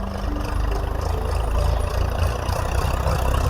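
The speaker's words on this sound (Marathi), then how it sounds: "तर ट्रॅक्टर खत पांगवतोय." A tractor spreading manure across a farm field, its engine chugging with a steady low rumble that pulses slightly, close by, with no voices.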